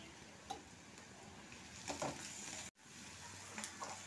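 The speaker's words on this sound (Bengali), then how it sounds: "আদা রসুনটা ভালো করে ভেজে নিচ্ছি" Ginger garlic paste fries in a pan over onions for tomato katla, giving a steady low sizzle with occasional stirring scrapes and clinks, fairly faint and close, with no talk.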